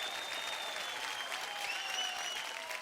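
A television dance show audience applauds after a performance, a dense continuous clapping from a large crowd that holds steady for the whole stretch, with a faint shout or two in the mix.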